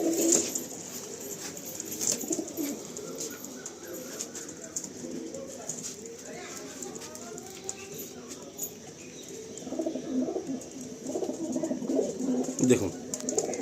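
Pigeons at a loft in Behala, where they are offered for sale, coo softly on and off at close range, with faint voices and occasional rustling or wing movement around them.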